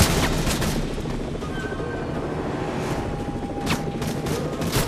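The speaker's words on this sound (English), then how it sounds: "I just keep on getting shot" Gunfire in the video game Call of Duty Modern Warfare 3 forms a dense, continuous roar of shots and booms, loud and unbroken throughout without a pause.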